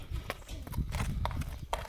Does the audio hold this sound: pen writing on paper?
no